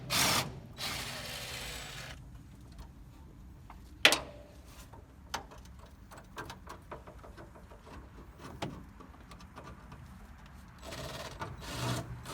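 Intermittent mechanical clicks and ratcheting with a few sharp metallic clanks, faint and close, as a wrench removes a nut from the brake proportioning valve of a 1973 Road Runner in short bursts.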